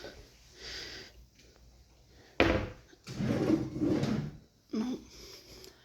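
Drawers in a motel room in Marathon, Florida Keys slide open and shut, with a sharp wooden knock, a longer rumbling slide and another bump, close by amid faint room noise.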